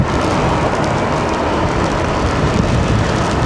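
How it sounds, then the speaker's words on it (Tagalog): Steady, heavy rain pours without a break, a dense close hiss that fills the whole stretch with no voices. "Umuulan na rito."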